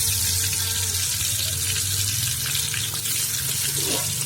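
Tofu fries in hot oil, a steady hiss and crackle close by, with a few faint clatters and no talking.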